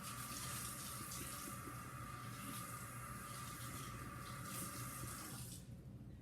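Steady rush of water from a kitchen tap during handwashing, continuous and close for several seconds before cutting off near the end.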